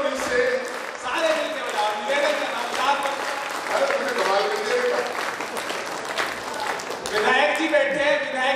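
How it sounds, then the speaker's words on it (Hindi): An audience at a Hindi poetry recital claps together loudly and continuously, a dense, sustained wash of applause with voices mixed in. "ताली बजाओ मिलके सारे जोर जोर से"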